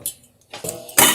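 Utensil stirring lemon juice, sugar and basil in a saucepan for a lemon tart, giving a few close, bright metallic clinks and scrapes in short bursts separated by brief quiet gaps.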